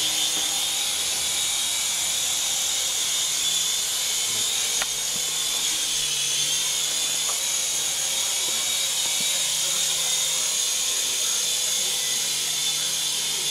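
A Syma S111G RC helicopter in flight, its steady high-pitched rotor and motor whine holding constant and close throughout with no talking.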